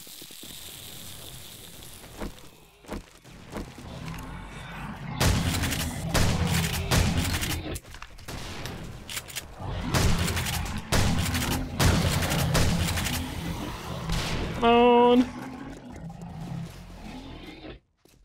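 Gunfire aimed at a boss in the survival game 7 Days to Die, with dense bursts of shots in clusters through the middle, loud and sharp, ending with a creature's rising screech.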